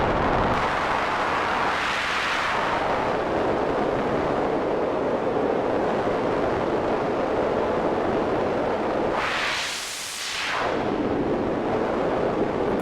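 Noise from a Cherry Audio Yellowjacket synthesizer runs through a bandpass filter, a steady windy hiss whose filter sweeps slowly up and down like surf or weather, with one deep swell near the end.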